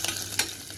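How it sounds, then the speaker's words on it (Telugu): Hot oil tempering, with asafoetida, is stirred into a pot of mango sambar, giving soft sizzling and scraping stir sounds with a couple of brief sharper clinks, close by and fairly quiet. "ఆయిల్ తీసుకుని దీని తాలింపు సాంబార్లో కలుపుకోవాలి బాగా వేసాక."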